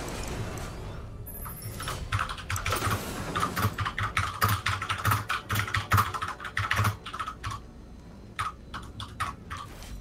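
Rapid, forceful typing on a computer keyboard, close to the microphone, with dense irregular clacks after a brief quiet start, then thinning out toward the end.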